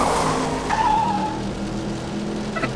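Race car engine in the Cars video game, a 900-horsepower machine, roaring steadily throughout with a brief high tire-squeal-like tone in the middle and a short burst near the end.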